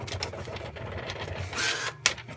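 A small printer in a home-built Boeing 737 cockpit prints an uplink page, giving a steady mechanical whirr and rattle with a brief louder feed burst near the end, heard close by.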